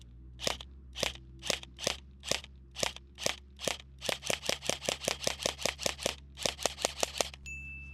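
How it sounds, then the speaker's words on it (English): An airsoft gun bought from Amazon fires semi-auto, about thirty sharp, close snapping shots in a steady rhythm that quickens midway, each crack distinct and alone over a low background hum. "Let's do a few shots and semi back and see how it is."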